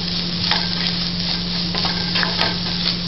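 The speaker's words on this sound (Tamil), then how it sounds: "மசாலா கருகாமல் பார்த்து வதக்கிக்கிறணும்." Masala for aloo paratha filling sautéing in a pan, a continuous close sizzle with soft stirring scrapes and a low hum underneath.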